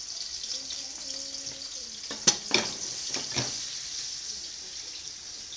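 Onions dropped into a hot pot sizzle steadily and close, with a few sharp scraping stirs partway through and a faint low hum under the frying.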